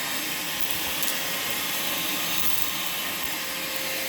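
A VacMaster 2.5-gallon, 2-horsepower shop vacuum runs steadily close by, a loud, unbroken broadband roar with a high whine and no talking.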